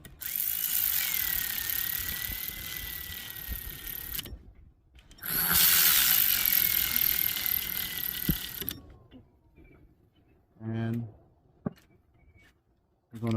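Ratchet running down crankcase bolts on a Yamaha Raptor 660 during a right side crankcase rebuild, two long stretches of steady clicking close by, then quieter tool taps and brief handling noises.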